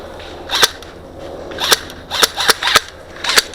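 Airsoft BBs striking a base during a capture-the-flag match: several sharp, snappy impacts, loosely spaced with a tight cluster of cracks near the end, fairly close.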